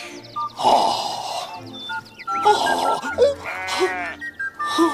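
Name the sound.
sheep bleating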